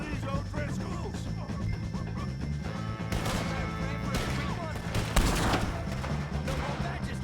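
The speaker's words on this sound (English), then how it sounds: "shoot some of these O'Driscolls!" Gunfire rings out in the Red Dead Redemption 2 video game, scattered shots and a heavy bang amid a noisy firefight, with voices shouting and talking throughout.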